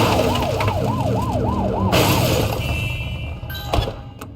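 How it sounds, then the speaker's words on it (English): A police car siren in the video game The Precinct wails in a fast rising-and-falling yelp over engine rumble, loud and close, then cuts off partway through, leaving fading traffic noise and a brief clunk. "Remember to turn your siren on."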